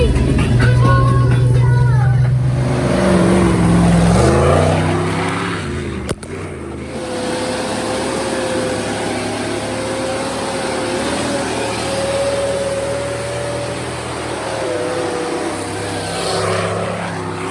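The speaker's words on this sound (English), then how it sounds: "I say we go for a ride, Stas. Let's burn it." A motor vehicle's engine revs up, then settles into a loud, steady drone as it drives along, close and continuous, with a brief knock partway through.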